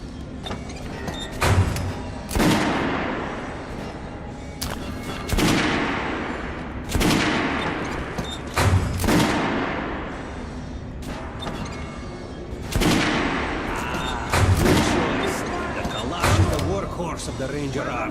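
Gunfire cracks out at a firing range in Metro: Last Light, with sharp loud shots spaced every couple of seconds, each trailing off in a ringing echo, and a voice speaking between them.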